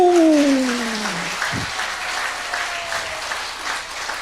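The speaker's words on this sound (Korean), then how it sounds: "박수!" An audience bursts into applause at a lecture hall gathering, dense continuous clapping that starts loud right after a spoken call and slowly eases off over several seconds.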